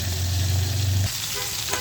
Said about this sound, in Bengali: এই কড়াইতে মাছ ভাজতেছি একটাই কারণে